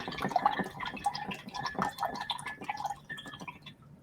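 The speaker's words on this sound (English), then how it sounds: "Rinse the brush." A paintbrush is rinsed in water, giving soft continuous splashing and dripping, close and moderately quiet.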